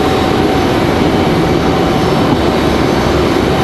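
A United Boeing 737-900 jet airliner departs from Raleigh-Durham International Airport, its engines giving a loud, steady broadband roar that holds constant throughout with no talk.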